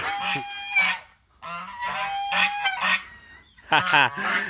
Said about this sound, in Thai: ห่านนะครับ